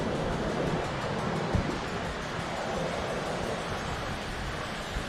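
Rushing river rapids beside a riverside café, a continuous loud broadband roar of churning water, steady and close with no pauses and no talk.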